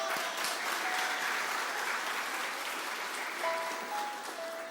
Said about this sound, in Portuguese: Aplauda o nome de Jesus.